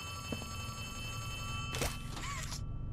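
A telephone rings inside a video game, two short bursts of ringing sounding over a steady background drone, fairly loud and close.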